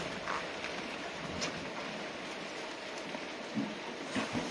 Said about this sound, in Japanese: 雷雨です。